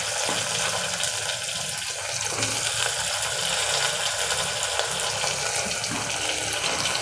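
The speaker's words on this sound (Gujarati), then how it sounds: "એનું પાણી થોડુંક આમ નિતારી લેવાનું હાથથી આવી રીતે આ પાણી નિતારી લેવાનું" Steady trickling and splashing of water as soaked soya chunks are squeezed out by hand, close up and without voices.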